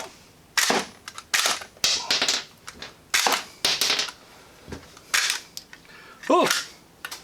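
A Dart Armoury toy dart blaster fires a magazine in a rapid string of about a dozen sharp, close cap-gun-like pops at uneven intervals, with a brief squeaky mechanical sound near the end.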